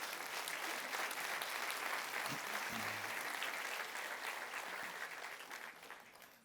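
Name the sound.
church congregation applauding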